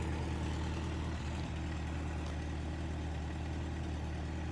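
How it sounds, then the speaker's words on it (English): A 1985 Peugeot 505 GL with a five-speed idles steadily, its exhaust manifold running a little loud when cold, giving a constant low rumble close by with no talk. "the exhaust manifold is a little loud, especially when it's cold"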